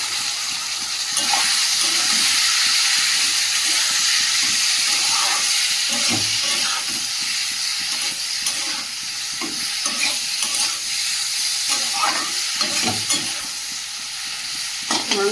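Boiled soybean and potato fry in a ginger-paste masala of tomato and green chilli, a steady loud sizzle and hiss with intermittent scraping stirs throughout.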